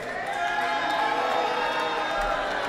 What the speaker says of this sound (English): all I hear are boos and jeers